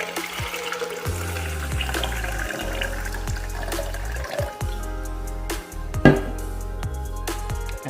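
About 300ml of water pours steadily into a protein shaker with a splashing, filling sound. Clattering handling noises and a sharp knock punctuate it near the end.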